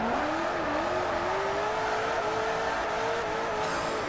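Koenigsegg CCX supercar engine in Forza Horizon 4 revving hard in third gear, a loud continuous rising drone held close throughout without a shift, steady and unbroken, with a faint whir of tires underneath and nothing else competing.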